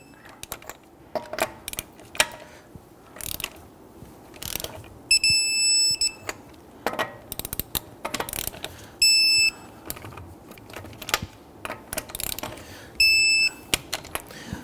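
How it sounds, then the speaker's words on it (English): Torque wrench tightening lug nuts to 100 foot-pounds on a Ford Taurus front wheel in a crisscross pattern: several close ratcheting bursts of clicks, with a few sharp high click-tone signals of the wrench reaching torque. "Let's go ahead and torque down our lug nuts to 100 foot-pounds."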